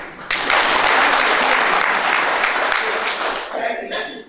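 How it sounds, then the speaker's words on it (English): An audience claps steadily in respect at a university human rights competition hosted by Bishop Stuart University, with loud, sustained applause from many hands filling the hall for about four seconds before thinning slightly at the end. "you know how we show our respect to people by clapping for them"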